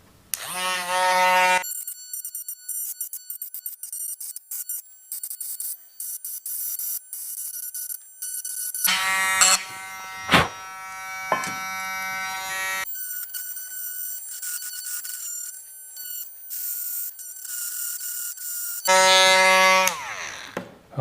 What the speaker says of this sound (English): simple Dremel tool with a round bit